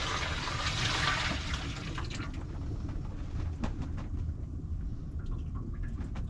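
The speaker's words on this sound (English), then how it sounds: "I just dump it right into our gray water tank." Used shower water poured from a container into a van's gray water tank, a steady splashing gush that tapers into trickles and drips, close up with no talking.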